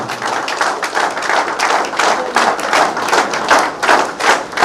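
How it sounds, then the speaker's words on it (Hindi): Audience clapping at a welcome ceremony, a steady run of many close hand claps with irregular thuds, loud and continuous throughout. "तालियों का ये क्रम यहाँ रुकना नहीं चाहिए।"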